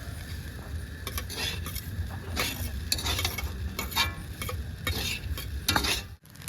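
Fried food being stirred and mixed in a pan in a home kitchen, with repeated scraping and clinking of a utensil against metal and a soft sizzle underneath, close and steady without talk.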